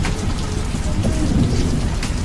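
A steady, loud monsoon downpour drums on surfaces nearby. A low rumble runs underneath the dense wash of falling rain, and no one is talking.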